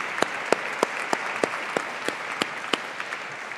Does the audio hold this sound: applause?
yes